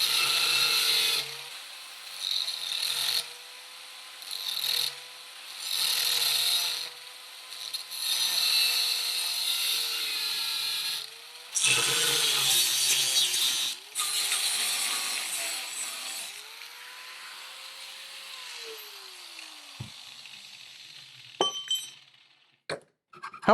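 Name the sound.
hacksaw cutting through a threaded vise screw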